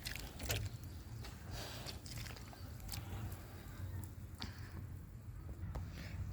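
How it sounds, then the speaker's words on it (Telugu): Soaked bananas being mashed by hand in a bucket of water, giving soft, quiet squishing and sloshing sounds with a few sharper splashy crackles scattered through. "చక్కగా ఇలా మంచిగా స్మాష్ చేస్తే మనకి ఈ రసం అంతా దిగిపోతుందండి."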